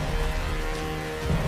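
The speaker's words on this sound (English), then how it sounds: "individual raindrops are lit by lightning and searchlights" Rain falls steadily in the Tomb Raider Definitive Edition video game, a dense hiss with a low rumble of thunder underneath, brief and alone.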